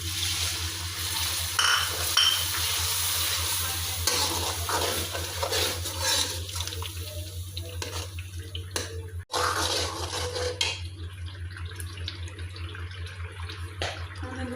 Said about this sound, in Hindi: तकरीबन 2-3 मिनट तक ना भून लेंगे अदरक लहसुन का पेस्ट भून के